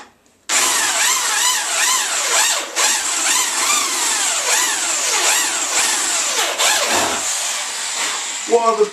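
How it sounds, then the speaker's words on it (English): A powerful large drill whines loudly and continuously, its pitch rising and falling repeatedly as it bores big holes into a rat bike's metal, then stops. "can you just drill big holes in with a big drill?"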